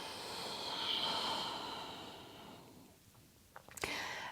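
A slow breath out during a full-body yoga stretch, a soft airy exhale that swells and fades, followed by a few faint breathy sniffs near the end, quiet and close.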